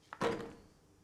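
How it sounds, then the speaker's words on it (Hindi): A single muffled thump as someone pushes against a door that won't open, short and fairly close, fading into quiet afterward. "ये दरवाजा क्यों नहीं खुल रहा?"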